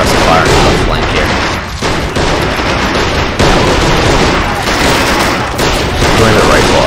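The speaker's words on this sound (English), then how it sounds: "if we can get this thing set up with the Browning 50 cal, we'll get some extra suppressive fire on the flank here" Heavy gunfire rattles continuously in the Men of War battle at Tobruk, dense overlapping bursts with booming impacts filling the whole stretch, loud and close, while a voice talks underneath.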